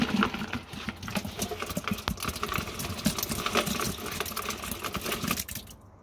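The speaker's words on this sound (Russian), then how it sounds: "дальше давим виноград на дробилке" A grape crusher works through freshly picked Avgustovsky grapes for dry white wine, a busy mechanical rattle and clatter with irregular knocks that cuts off just before the end.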